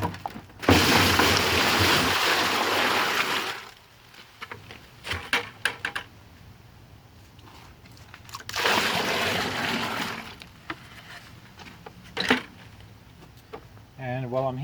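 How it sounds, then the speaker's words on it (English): Water gushing into a container while filling it with seven gallons, a loud steady splashing pour in two long bursts, separated by quieter gaps with clatter and handling noise. "I'm going to fill this container with 7 gallons of water now."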